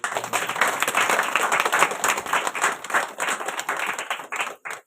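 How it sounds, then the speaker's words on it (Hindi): Church congregation clapping together, dense rhythmic hand claps close and loud, continuing steadily before thinning out at the end. "ताली बजाइए प्रिय।"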